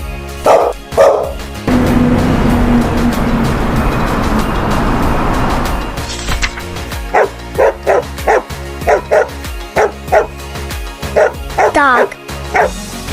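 A dog barks in a quick series of sharp yips and bow-wows, loud and close, after a stretch of rough rumbling noise, with a voice briefly speaking.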